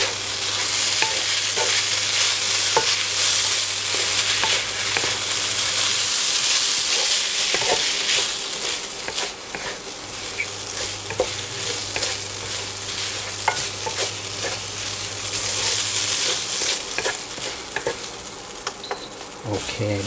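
Steady sizzling and scraping of glass noodles, minced pork and holy basil being stir-fried in a pan on a non-gas stove, continuous and close, with a faint hum underneath.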